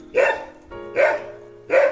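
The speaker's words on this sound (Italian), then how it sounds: "Fai un fischio a sti cani, Gaeta." Dogs bark at a rural farmhouse, three sharp, loud barks spaced evenly about a second apart with brief quiet gaps between them.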